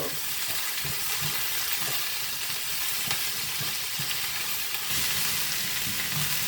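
Onions fry in a skillet with a constant, close, full-bodied sizzle that runs unbroken throughout, with occasional faint knocks of stirring underneath.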